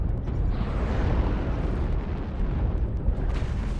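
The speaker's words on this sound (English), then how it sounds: "Artillery strike activated." Artillery strike explosions in MechWarrior Online on the Caustic Valley map, a continuous deep rumbling roar of blasts lasting the whole stretch, loud and dense with no clear gaps and no talk.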